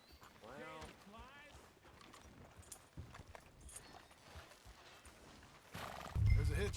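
A horse in Red Dead Redemption 2 gives a clear rising-and-falling whinny, then clip-clops and shifts about on a street, with a soft snort and heavier thud near the end.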